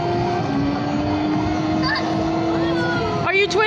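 A kids' ride-on motorcycle hums with a steady electric whine, rising in pitch as the throttle is twisted, while children and an adult talk over it.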